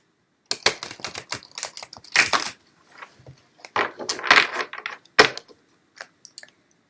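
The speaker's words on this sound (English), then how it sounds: "I'm going to shuffle one more time, and then I'm going to shuffle again" A deck of tarot cards is shuffled up close in a run of quick riffling, flicking bursts with brief pauses between them, with no talking.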